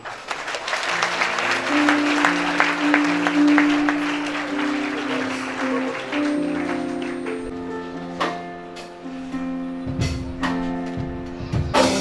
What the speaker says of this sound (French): Sous votre acclamation.